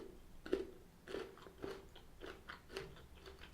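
Someone bites into and chews a Ritter Sport white cinnamon crisp chocolate bar with crisped rice pieces, giving a handful of sharp close crunches spaced about half a second apart, then quieter chewing.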